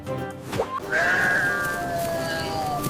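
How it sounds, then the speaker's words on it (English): A sheep gives one loud, close, quavering bleat that holds steady for about two seconds over a busy children's song backing track. "This is a sheep."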